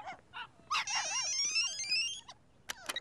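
Puppies whimper and yip in a cluster of high, wavering cries, one long drawn-out whine in the middle followed by a few short yelps near the end, close and fairly clear with no talk.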